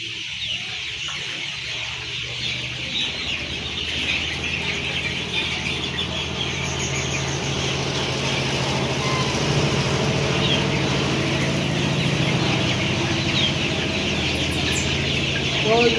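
A large colour-bird broiler chicken, about seventeen days old, clucks and squawks continuously while a person catches it for weighing, with other birds nearby and some rustling and handling noise close to the listener.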